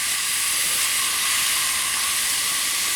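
Tri tip reverse searing over high heat, a loud, steady broadband sizzle and hiss that holds constant throughout with no talk.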